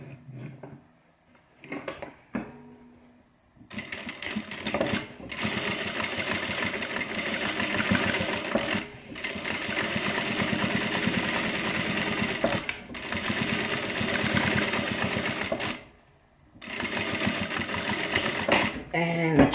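A sewing machine back-stitches a classic messenger bag panel, whirring loudly in long continuous runs with brief pauses between them, after a short stretch of talk and quiet handling at the start.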